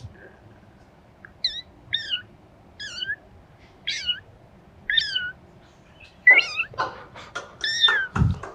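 A human voice imitates a baby kitten's meow into a microphone, repeating about eight short, high, wavering mews at roughly one-second intervals, close and clear, with the last few louder and followed by a brief breathy sound.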